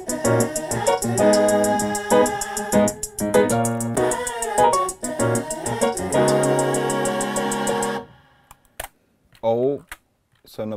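A fast, steady sixteenth-note hi-hat drum loop ticks over a busy musical backing, then stops abruptly, leaving a few short scattered sounds.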